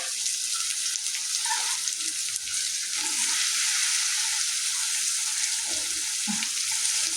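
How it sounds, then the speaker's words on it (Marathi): Washed soybeans dropped into a hot pan in a home kitchen, frying with a loud, continuous hiss and a few soft knocks and stirs underneath. "इथं टाकायचं सोयाबीन"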